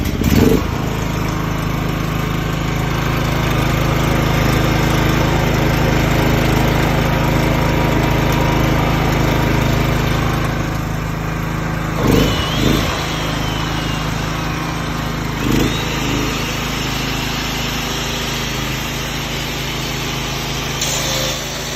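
Fiber cut-off saw running on power from a Daewoo DGA8000E generator, a loud, steady engine and motor drone that holds throughout, with a few brief surges and knocks partway through.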